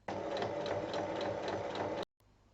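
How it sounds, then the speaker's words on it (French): A sewing machine runs steadily for about two seconds, stitching a zipper with a zipper presser foot fitted for a small fantasy-style zip pouch, giving a fast rhythmic mechanical whirr before stopping abruptly. "Changez bien de pied presseur pour piquer la fermeture à glissière."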